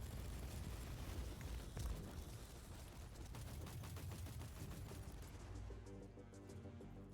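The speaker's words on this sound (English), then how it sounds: "I love how the cannons sound. They have such a good noise." Cannons fire in Warhammer 40K Inquisitor - Martyr, a rapid run of booming blasts and crackling impacts that sounds like dense gunfire, fairly loud and continuous before thinning out toward the end.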